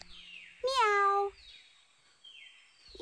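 A single cartoon-like cat meow rises and falls in pitch, loud and clear, followed by faint sliding tones and near silence.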